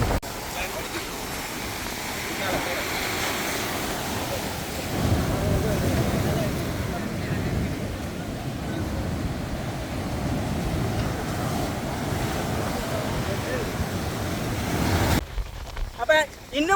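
Sea waves churn and wash in at a storm-damaged Moorkkam beach, where water surges past a stone seawall. A continuous broad roar of surf is mixed with heavy wind buffeting the microphone.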